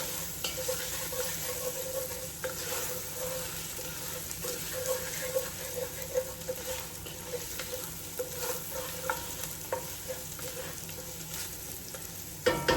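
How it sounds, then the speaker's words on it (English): Garlic and tomato fry in a pan while being stirred, giving a steady sizzle with scraping and clinking from the stirring throughout, fairly close and even in level. "Give that a stir for about 30, 40, 50 seconds"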